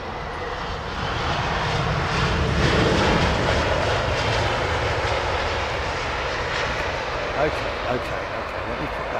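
Airliner of TAP Air Portugal at Heathrow Airport, a steady broadband engine roar that holds loud and close across the whole stretch, swelling slightly near the start, with faint talk underneath.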